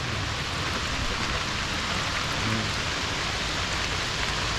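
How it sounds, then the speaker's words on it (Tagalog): Steady, dense rain falling continuously on a hut at a fishing spot, a broad hiss of drops hitting surfaces nearby, with no pauses or voices. "So, napunta kami ng ulan dito sa Kubo."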